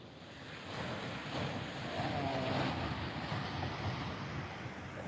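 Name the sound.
ocean waves at the beach, Fingal Head, Australia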